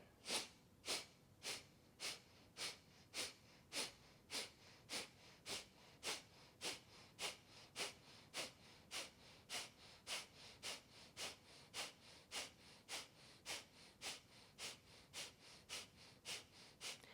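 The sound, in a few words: kapalabhati skull shining breath, rapid belly-pumping exhalations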